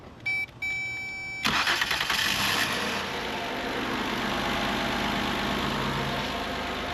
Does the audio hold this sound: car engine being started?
yes